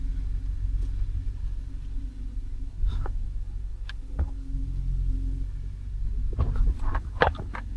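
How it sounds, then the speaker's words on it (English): Rush-hour commuter traffic on busy Mount Herman road makes a steady, low, distant rumble, with a few faint clicks and rustles nearby and no voices. "you can hear the traffic right now"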